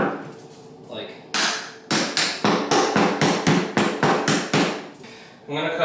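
Sharp hammer blows strike in a quick, fairly regular series while installing vinyl plank flooring, loud and close, with a few quieter sounds before the pounding begins.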